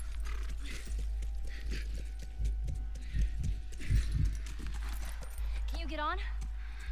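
Horse hooves clip-clop in The Last of Us, a steady rhythmic trot heard at moderate distance beneath game music and intermittent talk, with a horse whinny near the end.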